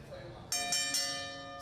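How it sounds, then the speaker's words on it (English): A ringside bell starting a pro wrestling match clangs in a quick run of sharp strikes that ring on and fade slowly, loud and close over crowd murmur. "Senior official Jim Bragg calls for the bell"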